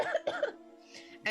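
A voice imitates an old woman coughing, giving a few quick raspy hacks followed by a throat-clearing rasp, close and fairly loud.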